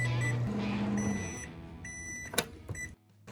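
Close by, a microwave oven hums as it runs, with steady tonal drones and a few short beeps near the end, then falls quiet.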